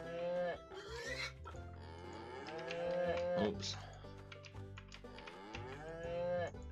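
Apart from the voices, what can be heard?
cows mooing in Harvest Life farming video game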